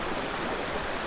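A forest stream flows in a steady, hissing rush of water, close and unbroken for a brief moment.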